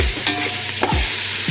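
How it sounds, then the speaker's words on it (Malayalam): Onions, tomatoes and green chillies sauté in a pan over high flame, giving a steady close sizzle with a few soft scrapes of stirring. "സവാളയും തക്കാളിയും പച്ചമുളകും എല്ലാം കുറച്ച് വഴന്നിട്ടുണ്ട്."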